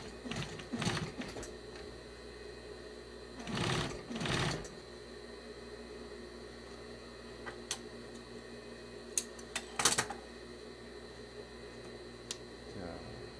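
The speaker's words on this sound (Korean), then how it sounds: "청바지 전용 미싱 640이라는 이 미싱이 꼭 필요합니다." A dedicated denim sewing machine, model 640, stitches through a thick jeans hem in short, loud bursts of rapid mechanical chatter, separated by quiet pauses filled with faint clicks and handling noises.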